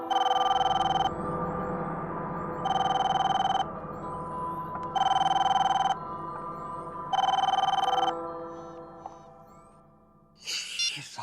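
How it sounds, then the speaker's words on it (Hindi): A telephone rings unanswered in four evenly spaced bursts of bright electronic ringing at moderate volume, followed by a pause and a brief dull noise at the end, with no speech. "फोन क्यों नहीं उठा रहा है?"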